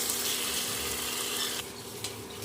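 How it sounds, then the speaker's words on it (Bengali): Liver is fried with spices in a pan, giving a loud, continuous sizzle with soft stirring scrapes throughout, close up. "মশলার সাথে মেটেগুলো খুব ভালো করে কষিয়ে নিতে হবে"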